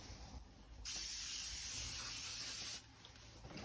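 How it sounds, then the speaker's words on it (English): A steady hiss from an aerosol can sprays continuously for about two seconds, fairly close and loud, then cuts off abruptly. "I think I'm just going to go for the big spray now."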